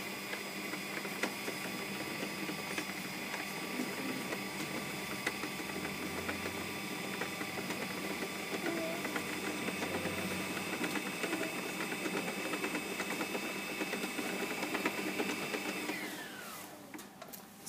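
A sewing machine winds thread onto its bobbin at a steady, moderate speed, giving a continuous, even mechanical whir that runs for a long stretch before winding down and stopping near the end.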